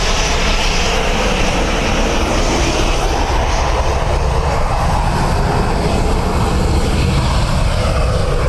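Jet engines roar loudly and steadily as a Ryanair airliner departs Dublin Airport bound for Dubrovnik, a close, continuous broadband rumble with no break.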